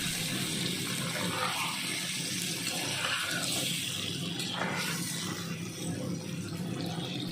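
Hot water pours into a pan of prawns for chingri malaikari, making a continuous close, splashing, rushing pour that stays even for several seconds.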